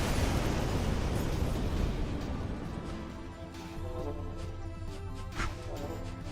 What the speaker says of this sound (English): That many nukes going off.